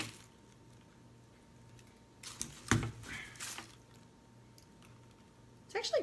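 Cutters snip through the stems of artificial silk roses, producing a few quiet, crisp clicks and crunches spaced seconds apart against a faint room hush.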